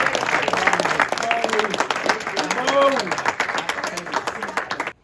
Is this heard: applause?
yes